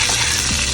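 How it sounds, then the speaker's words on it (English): Garlic sizzles and fries in a pan of melted unsalted butter, a dense, steady close-up crackle that continues without a break and with no talking. "I went and added 1 stick of butter, unsalted butter to the pan. I'm gonna add my garlic in there now."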